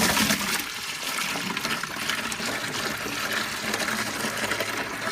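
Radiator coolant from a Nissan 350Z or Infiniti G35 gushing out of a hose into a 5-gallon bucket, a strong steady rushing splash that continues without pause.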